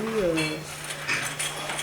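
Small aluminium pots and pans clink and clatter as they are sorted by hand, a steady jumble of metallic knocks close by, with a voice speaking over the start.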